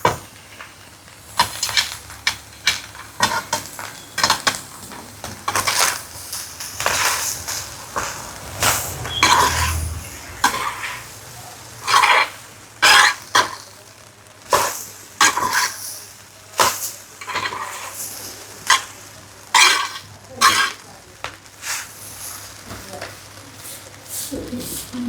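Fried rice is stirred in a hot pan with salt added, a spatula scraping and tossing in irregular strokes over a constant low sizzle, loud and close with brief pauses between bursts.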